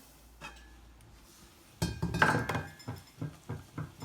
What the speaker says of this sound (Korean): 좀 빨리 하기 위해서 뚜껑을 한 1분, 2분 덮어놓을게요